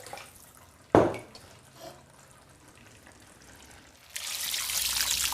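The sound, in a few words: water poured into a dish to swill out lamb juices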